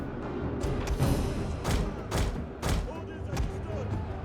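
Gunfire in the Total War strategy game: several sharp shots crack out in an irregular volley over a dense battlefield din, with a voice talking beneath.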